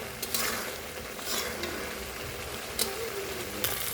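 Food sizzles steadily as it is stirred and fried in a pan close by. A few sharp scrapes and knocks of a spoon against the pan rise above the continuous frying, and no one speaks.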